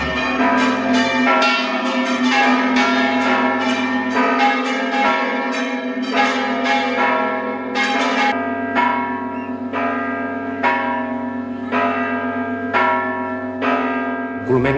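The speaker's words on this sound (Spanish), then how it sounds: "sus campaneros preparan las cuerdas para voltear las campanas con ellos volando" Bronze church bells in Utrera swing and peal in a dense, ringing cascade, strikes tumbling rapidly over a steady low hum, loud and close for the full stretch without voices.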